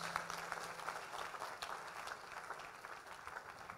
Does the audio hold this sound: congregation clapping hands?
yes